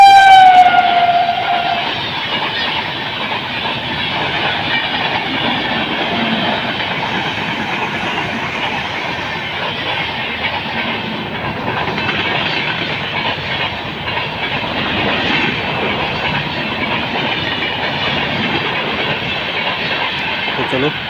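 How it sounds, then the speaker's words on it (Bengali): A train runs through Gazole station in Malda without stopping, a loud continuous rumble and hiss of wagons passing close by, with a brief high horn note at the start. "সেই ট্রেনটি এখন আসছে দেখো ওই ট্রেন এখন চলে যাবে কারণ ওই ট্রেনটি ওই গাজল স্টেশন দাঁড়ায় না"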